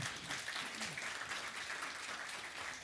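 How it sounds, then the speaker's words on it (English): An audience applauds panelists at a forum on historically Black colleges and universities: dense, steady clapping at moderate, fairly distant loudness, unbroken for the full stretch with no talk over it. "let's give our panelists a round of applause"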